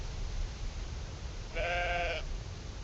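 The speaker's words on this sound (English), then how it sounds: "We do hear the sheep." Sheep in the railway management game Railway Empire 2 give a single clear bleat about halfway through, rising over a steady low rumble of background game ambience.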